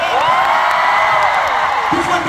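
A fan-meeting audience at Ten's first fancon in his Thai hometown cheers and whoops loudly and continuously, a dense, bright roar of many voices with no pauses.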